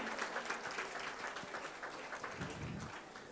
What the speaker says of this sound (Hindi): तोगड़िया जी का स्वागत किया जाए जोरदार तालियों से।